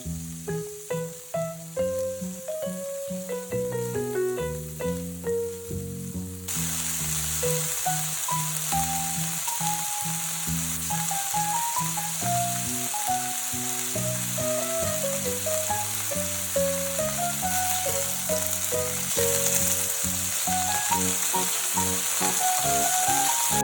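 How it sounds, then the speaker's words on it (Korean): Beef steak sears in a preheated oiled pan for an izakaya-style dish, a steady broadband sizzle starting abruptly after a few seconds and holding loud under continuous melodic background music. "자, 이제 팬에 기름을 두르고 예열을 충분히 한 다음 소고기를 올려줍니다."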